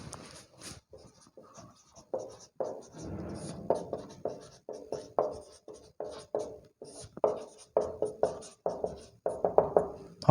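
A pen writes out a definition of the solution of a differential equation, scratching in short rhythmic bursts of strokes with brief pauses, close and clear with no talking.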